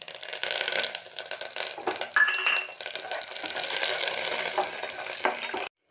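Chana dal, urad dal and curry leaves fry and crackle in a pan while a utensil stirs and scrapes through them, a close, busy sizzle with scraping that cuts off abruptly near the end.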